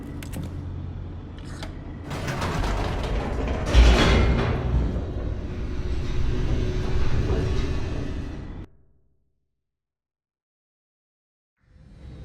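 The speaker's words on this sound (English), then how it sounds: "The elevator raced downward, plummeting towards an unknown fate" Elevator descending at speed in The Stanley Parable video game: a steady mechanical rumble with creaks and rattles for about eight seconds, ending abruptly in silence before a faint sound returns.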